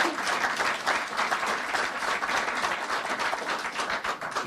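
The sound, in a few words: audience applauding the minister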